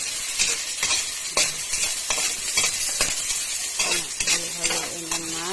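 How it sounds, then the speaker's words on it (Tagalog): Beef short ribs are stirred and fried in hickory smoke barbecue sauce with garlic and onion, a steady close sizzle broken by repeated scraping stirs, with a faint voice-like tone toward the end. "Haluin lang natin hanggang mababrown na siya guys."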